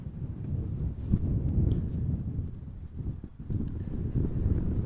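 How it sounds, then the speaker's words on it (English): Gusty westerly wind buffets an outdoor microphone beside Amsterdam Schiphol Airport, a continuous low rumbling roar that swells and dips, with no voices. "The wind is blowing from the west, so this is also blowing away from us."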